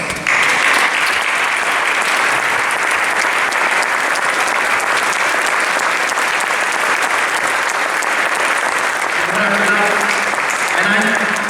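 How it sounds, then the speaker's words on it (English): Long, sustained applause from a large congress audience in a hall, loud and even throughout, with a voice briefly audible near the end. "please join me in the big round of applause"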